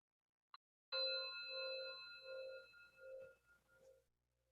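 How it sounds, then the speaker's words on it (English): A meditation bell is struck once after a tiny click, ringing out clear and bright with a long, slowly pulsing decay that fades to quiet in a still room. "and then I'll ring the bell"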